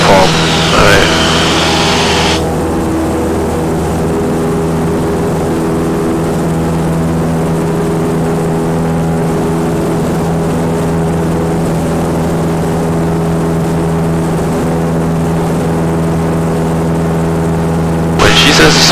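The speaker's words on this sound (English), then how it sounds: "It should take you 2 to 3 seconds for that throttle to go from idle to full" Light aircraft engine during a flight lesson, a loud steady drone with strong low harmonics, with a brief burst of cockpit voices at the start and end.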